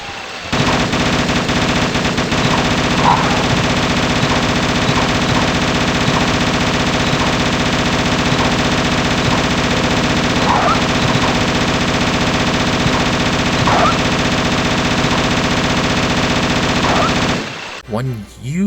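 Light machine gun fire in Resident Evil on PC, one continuous loud stream of rapid shots holding steady for most of the clip before cutting off abruptly near the end.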